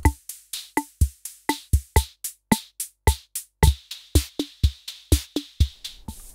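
A 1960 Maestro Rhythm King drum machine plays a steady, looping pattern of punchy low thumps alternating with crisp, clicky hits, clear and close with no voices.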